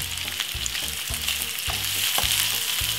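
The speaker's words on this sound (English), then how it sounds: "let's pour the beautiful meatball inside of the frying pan" Meatballs sizzling as they pan fry in a frying pan, a steady crackling hiss with small pops and occasional scrapes or stirring knocks, close and continuous with no talk.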